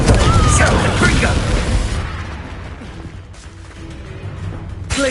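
A Confringo fire spell from Hogwarts Legacy bursts loudly at the start, a booming blast with a dense rumble that fades over about two seconds into a quieter game ambience.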